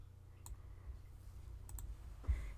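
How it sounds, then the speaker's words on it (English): A computer mouse clicks quietly a few times while dragging during design work in Canva, sharp isolated clicks over a low steady hum and faint background noise. "just by clicking and dragging the side here"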